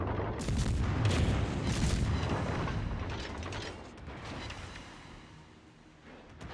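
Naval gunfire in a warship video game as the destroyer Kidd trades shots with an enemy ship, heard as a run of heavy, booming cannon reports that echo for the first few seconds, then a lower, rumbling tail.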